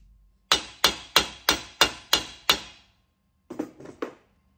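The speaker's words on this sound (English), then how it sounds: "when you hand hammer rivets, they mushroom" Hand hammering on rivet heads while fitting the handle of a handmade copper ladle: seven sharp, evenly spaced metallic strikes, close and loud, then a pause and three lighter, quicker taps.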